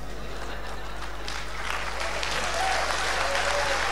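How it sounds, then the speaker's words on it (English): Sustained applause from a comic convention panel audience, a dense, even wash of many hands clapping that swells slightly toward the end, with a hum underneath. "thank you for the applause"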